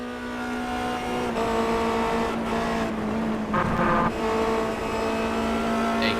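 A Formula Renault 2.0 race car engine at Brands Hatch, a steady high droning note that shifts pitch as the car works through the gears and passes, heard at a distance and fairly constant.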